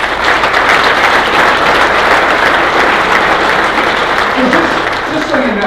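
An audience at an SCPGA summer meeting gives a loud, sustained round of applause that fills the room, with voices mixed in beneath the clapping.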